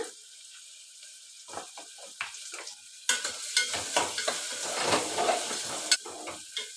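Rice with turmeric and salt frying in a pan, quiet scrapes at first, then a louder continuous sizzle with repeated spatula strokes close by.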